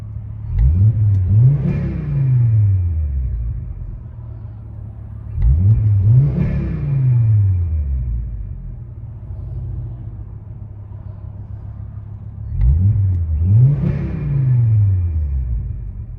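A 1996 Volvo 850R 2.3L five-cylinder turbo engine with a turbo-back exhaust revs up hard three times, each surge rising then falling back to a steady idle rumble between, loud and close.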